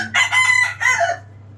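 A rooster on a native-chicken farm crows loudly and close by, one drawn-out cock-a-doodle-doo in two bursts, with a steady low hum underneath.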